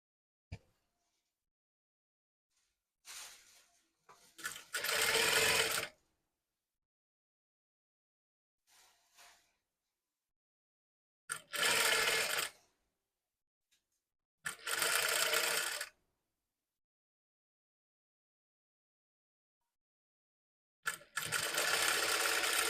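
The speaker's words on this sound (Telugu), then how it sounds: "జాయింట్ వేసి సేమ్ అదే స్టిచ్ మీద ఇంకో స్టిచ్ కుడుతున్నాం మనం" A sewing machine stitches a blouse seam in four separate bursts, each a steady whirring run of a second or two, with quiet pauses between and no talking.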